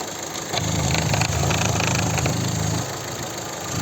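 A 2010 Opel Zafira facelift with a 1.8 MPI petrol engine idles, a loud, close, steady low hum for about three seconds that then drops slightly in level.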